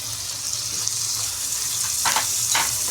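Green chilli and coconut paste being stirred in a frying pan for rohu fish curry, a steady sizzling hiss with a few soft utensil scrapes near the end.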